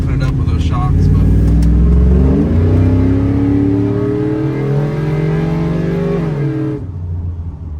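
1988 Chevrolet C1500 pickup with an LS3 V8 and 6L90 transmission, accelerating at half throttle, a loud close engine roar rising through the gears for several seconds before cutting off abruptly near the end.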